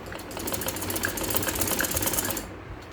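A sewing machine stitches lace onto a kameez, a fast continuous mechanical rattle running for a couple of seconds before stopping abruptly near the end.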